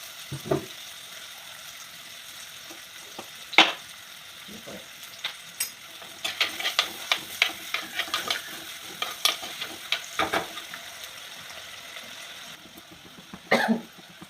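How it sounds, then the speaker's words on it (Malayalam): Onions, shallots and curry leaves, along with garlic and ginger, fry in a pan for a fish curry, giving a soft steady sizzle broken by bursts of stirring and scraping taps. "ഉള്ളി ചുവന്നുള്ളിയും കൂടെ നമുക്കിതിനകത്തോട്ടിടാം. അല്പം കരിവേപ്പില ഇടാം."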